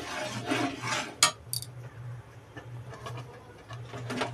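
Quiet scraping and clinking of a spoon stirring a thick palm fruit mixture with sugar in a pot, a few soft strokes with one sharper knock, low background hum throughout.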